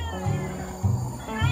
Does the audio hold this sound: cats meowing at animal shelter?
yes